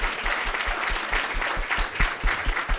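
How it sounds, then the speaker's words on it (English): An audience at a panel event applauds the panelists, a steady wash of clapping with distinct near hand claps at a regular pace, no speech. "definitely one more round of applause for these amazing panelists"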